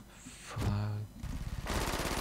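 Automatic gunfire in the video game Brink, a short rapid burst of loud, close shots that follows a brief tonal game sound.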